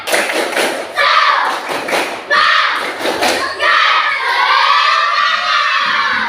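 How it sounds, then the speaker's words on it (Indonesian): Students in a classroom do a rhythmic clapping cheer, bursts of loud claps and thumps mixed with children shouting and chanting throughout. "Semuanya tepuk semangat."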